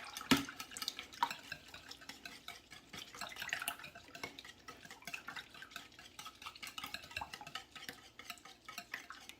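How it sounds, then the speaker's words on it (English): Milk, oil and eggs are whisked gently in a bowl for baking cinnamon apple bread, making a soft, irregular stirring and sloshing with occasional light clinks of utensil against the bowl. "I'm gonna mix this milk, oil, and eggs together here gently."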